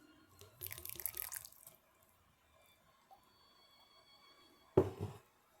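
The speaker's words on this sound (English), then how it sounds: "And then I'm gonna add some water." Water is poured over cantaloupe seeds in a bowl, giving a short burst of splashing and trickling, then a single louder splash a few seconds later, all fairly quiet and close.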